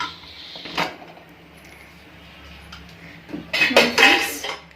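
A pressure cooker lid coming off a pot of cabbage rice bath, a metallic clank early, then a burst of scraping, rattling metal clatter near the end.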